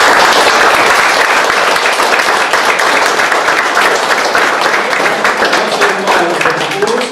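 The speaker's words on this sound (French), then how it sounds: "je vous demande de les applaudir très fort" Sustained, loud applause from an audience at an art exhibition opening, dense clapping filling the room from start to finish, with a faint voice rising near the end.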